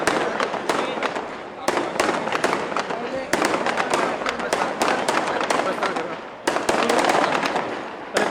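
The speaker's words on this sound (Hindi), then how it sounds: "पटाखा बंद होना चाहिए" Rapid firecrackers crackle and pop continuously, with sharper louder bursts every second or so, while a crowd murmurs underneath.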